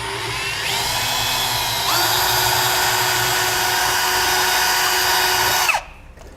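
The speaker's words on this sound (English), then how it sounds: "We're going to drill straight from underneath the bed, going through all the way up through that little section in our template." A power drill bores a pilot hole from underneath up through the bed of a 2016 Chevrolet Silverado for an underbed gooseneck hitch. It gives a steady high-pitched whine that shifts pitch twice, runs for almost six seconds and then stops abruptly.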